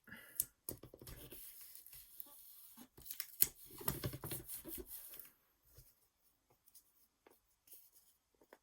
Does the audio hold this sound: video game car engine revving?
no